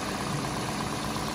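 Toyota Yaris engine swapped into a 2nd gen Toyota Prius, idling with a smooth, steady low hum and no speech.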